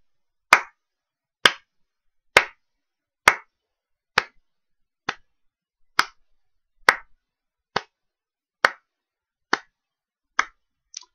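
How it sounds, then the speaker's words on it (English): Twelve sharp hand claps picked up close by a microphone, spaced about one second apart in a steady rhythm, each crisp and loud with a quick decay and nothing else between them. "So if I clap, as you'll notice, it changes when I talk"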